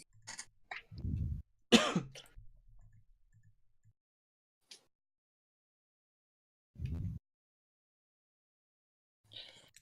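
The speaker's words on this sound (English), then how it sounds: "Coughing up lung here." A person coughs in harsh, wet bursts after swigging a foul-tasting drink, with a pair of loud coughs early, another cluster shortly after, then isolated coughs spaced apart amid quiet.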